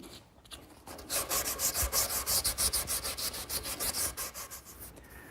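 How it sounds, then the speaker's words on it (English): Hand sanding on a wooden table, a steady run of rhythmic back-and-forth rubbing strokes, close and fairly quiet, with no voices. "a little more touch-up sanding"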